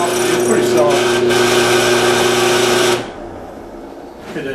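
A drill boring out soft aluminum alloy bearing holes on a riding mower, a loud steady whine for about three seconds that then stops abruptly, leaving quiet room sound.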